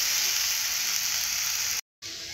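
Potatoes frying in oil until reddish, a dense continuous hiss close by, steady and even, cutting out briefly near the end.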